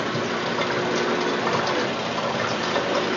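Water from a small compact portable top-load washing machine drains into a bathtub as a steady, loud, close gushing rush that holds constant without a break.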